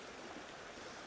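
A river in nature flows in a steady, dense rush of broadband water noise, close and continuous with no other sounds.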